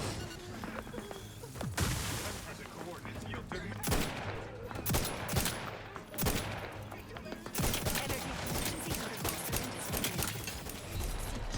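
Rapid bursts of gunfire from the video game The Outer Worlds 2, loud sustained volleys with sharp individual shots and short pauses between barrages.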